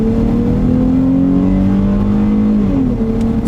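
2017 Dodge Challenger GT all-wheel-drive V6 accelerating hard, a loud, close engine drone climbing steadily in pitch, with a brief dip near the end like a gear change.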